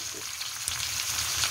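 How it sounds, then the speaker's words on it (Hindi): Chicken with onions and cumin fries in a pan, giving a brief, steady, moderately loud sizzle with a faint stir or clink partway through. "इसे फ्राई करेंगे।"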